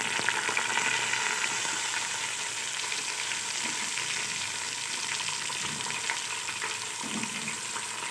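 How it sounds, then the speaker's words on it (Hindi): Peas and biryani masala sizzle in a hot pan, a loud, even frying hiss that runs steadily throughout with occasional stirring scrapes and no voices. "हम डाल देते हैं पहले मटर, और बिरयानी का सारा मसाला"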